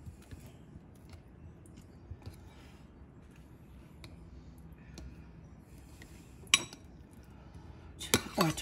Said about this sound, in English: I'm going to use a metal spoon there.